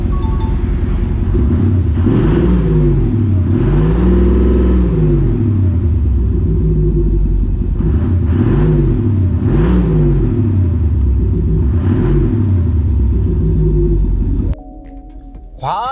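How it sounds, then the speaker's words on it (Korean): Audi SQ8 performance SUV engine and exhaust, loud deep rumbling with several rising and falling revs, each swelling then dropping back to idle, close up, ending abruptly. "이 시동을 걸었을 때 배기음이 먼저 나를 압도하네요. 우선 배기음부터 들려드릴게요."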